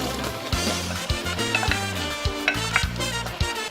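Peppers, onion and spices stirred as they simmer in a pot, with steady sizzling, the scrape of a utensil, and a low rhythmic pulse of music underneath.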